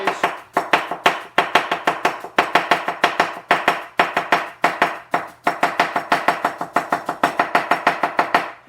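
Knife thinly slicing a quartered onion on a board, a fast, steady run of crisp close chops with brief pauses, no talking.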